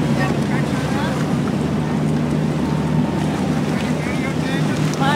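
Motorboat engines drone over the water amid wind buffeting the microphone, a steady busy rumble of many boats on the Fourth of July, with faint voices mixed in.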